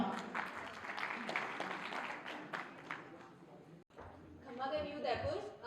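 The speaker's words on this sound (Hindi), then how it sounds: "एक बार जोरदार तालियां" Loud applause from the audience at a Teli Sahu community felicitation ceremony in Udaipur, steady clapping over about four seconds with a brief break and then renewed clapping, mixed with crowd noise and voices.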